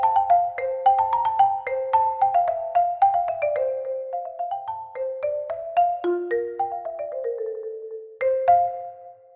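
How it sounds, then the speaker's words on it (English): A marimba plays a flowing phrase with accented notes, clear mallet strikes in a steady rhythm with ringing wooden tones, up close and alone. "it sounds like this on the marimba."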